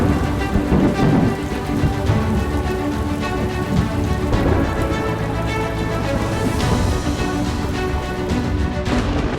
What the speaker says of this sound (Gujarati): દેવભૂમિ દ્વારકામાં આવ્યો લાલચોળ વરસાદ।